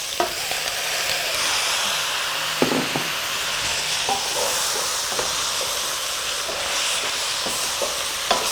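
Chopped tomatoes fry with meat in a pan for sweet jollof rice, giving a loud, steady sizzle and hiss, with scraping stirs breaking in now and then.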